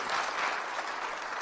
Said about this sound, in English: Please give our panelists a round of applause for coming out tonight